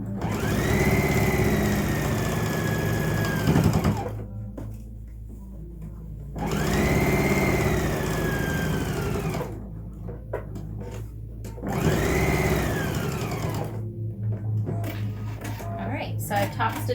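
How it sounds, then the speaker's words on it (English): A sewing machine top stitching around a fitted fabric face mask runs in three long bursts of steady whirring, separated by short pauses. "So I've top stitched around the rest of the mask"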